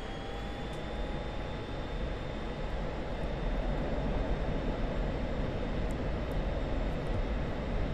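An F-16C Viper fighter jet in the flight simulator DCS roars steadily through its takeoff run, a dense, continuous engine rumble with a thin high whine that holds for about eight seconds.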